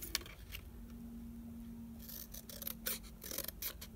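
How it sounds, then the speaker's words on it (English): Scissors snip a piece off a DIY tool caddy build, a steady faint hum underneath, then several quick, close cutting and rasping strokes in the second half. "and then just cut that piece off"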